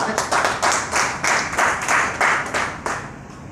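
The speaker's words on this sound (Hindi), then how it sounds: "ताली हो जाएगा।" Rhythmic group clapping in a hall at a direct-selling business seminar, several people clapping together in steady bursts for about three seconds, close and fairly loud, with no talk over it.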